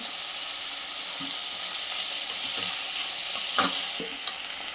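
Malabar spinach (bachhali kura) frying in a pan, a steady close sizzle with occasional stirring scrapes and small pops, no voices over it.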